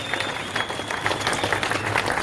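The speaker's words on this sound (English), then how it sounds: "Give yourselves a round of applause for turning up." Outdoor crowd applause at a motorcycle rally near Parliament House, a dense, steady burst of clapping with some cheering mixed in, loud and continuous throughout.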